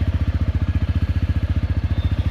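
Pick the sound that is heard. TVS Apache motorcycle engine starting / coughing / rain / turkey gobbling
TVS Apache motorcycle engine starting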